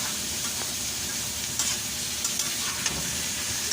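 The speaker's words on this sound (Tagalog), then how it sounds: "ilagay na natin mga kakusin yung pork na hiniwa ko na pakwadrado" Cubed pork sizzles steadily in a pan, a continuous dense frying crackle with occasional light stirring clicks, close and even throughout with no voices.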